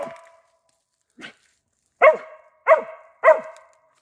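A working dog barking at a squirrel outdoors, one short yelp then a rapid series of three loud, close barks at an even pace.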